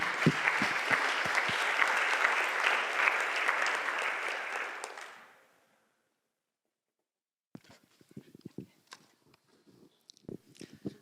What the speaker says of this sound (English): Give Katharina a warm applause, please.